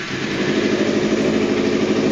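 A 2014 Kawasaki Ninja FE ABS motorcycle engine idles steadily and close by, a smooth continuous mid-pitched hum with a fine rapid pulse and no voices.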